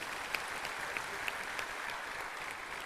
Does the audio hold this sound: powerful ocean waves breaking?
no